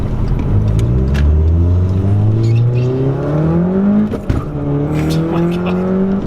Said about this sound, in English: So I went to the piston style valve, and it holds great and it flutters.